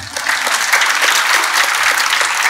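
Congregation applause in a church service, a dense steady patter of many clapping hands filling the space continuously and fairly loudly throughout, with no speech over it.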